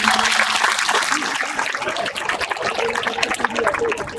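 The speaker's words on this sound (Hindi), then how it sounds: "और उससे ज्यादा जोरदार ताली" Crowd applause at a Bhagwat Katha religious gathering in Zirakpur, dense rapid clapping held at a steady loud level from start to finish, with speech faintly underneath.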